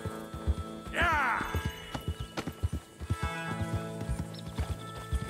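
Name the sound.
horses galloping and neighing in the video game Red Dead Redemption 2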